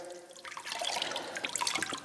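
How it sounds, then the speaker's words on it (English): Water trickling and dripping as a soaked skate is squeezed out by hand, a brief wet splatter that builds into scattered drips and spatters, close and fairly soft. "make sure we squeeze out any of the extra water that's in there"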